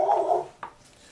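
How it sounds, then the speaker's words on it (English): Rubik the dog gives a short, muffled bark at people walking by, followed by a fainter second yelp and then quiet. "that's just Rubik barking at people as they walk by"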